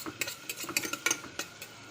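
Onions and green chillies fry with spices in a pan while a utensil stirs them, giving a string of close, sharp scraping and clinking taps over a faint sizzle.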